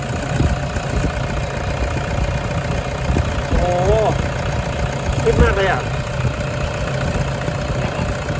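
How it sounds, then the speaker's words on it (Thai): The diesel engine of a Toyota Hilux Vigo pickup truck idles with a steady low rumble while a person speaks briefly over it. "เครื่องยนต์เสียงเดียวกัน อัตราการสั่นตัวเนี้ย มันสั่น มันสั่นความถี่เดียว"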